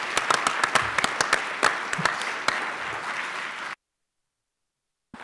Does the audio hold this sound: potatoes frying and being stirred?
no